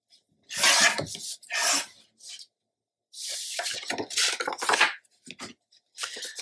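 Scrapbook paper being trimmed by about an eighth of an inch for a Graphic 45 Enchanted Forest page, several close, dry scraping cutting strokes in short bursts separated by silence.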